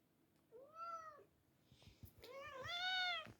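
A cat meows twice indoors, a short rising call followed by a longer, louder, drawn-out meow, with quiet room noise between.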